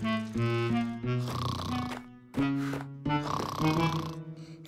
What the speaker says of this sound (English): I'm sorry we disturbed your sleep when you were snoring.